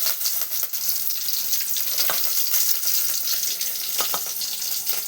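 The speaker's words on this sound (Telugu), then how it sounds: "ఆయిల్ వేడెక్కింది. ఉల్లిగడ్డలు అయితే వేగనిద్దాము." Onions sizzle and crackle steadily in hot oil in a pan, a close, loud continuous frying hiss with small pops and occasional stirring scrapes throughout.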